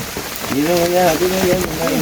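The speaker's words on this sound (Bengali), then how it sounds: "এই প্রচন্ড বৃষ্টি আর আমরা এই যে বিশ টাকা করে ছাতা ভাড়া নিলাম" Steady heavy rain hisses throughout at Ratargul swamp forest in Sylhet, Bangladesh, while a voice is heard over it.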